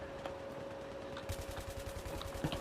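A quiet, steady burst of rapid automatic fire from an M240B machine gun with flash suppressor in Battlefield 3, starting partway through and continuing as an even rattling stream beneath a constant tone.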